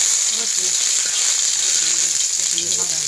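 Red amaranth leaves and garlic fry in hot oil, giving a loud, even hiss that holds steady throughout, with faint voices murmuring underneath.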